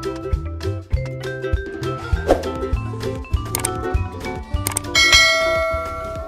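A notification bell dings brightly near the end, ringing out over busy background music with a short shimmering decay.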